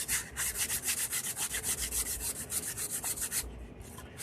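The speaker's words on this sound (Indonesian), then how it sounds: "di amplas ini kita lihat abang kita sedang mengamplas" Sandpaper rubs by hand over a twin coconut shell bonsai in steady, close back-and-forth strokes, a dry scratchy rasp repeating about four times a second before pausing briefly near the end.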